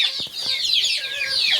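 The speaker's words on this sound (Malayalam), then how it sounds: "ഒരു കോഴി വന്നിട്ട് എൻ്റെ കാല് കൊത്തുക." Chickens clucking on a poultry farm, a few close, quick rhythmic clucks and chirpy calls from birds nearby, with no talking.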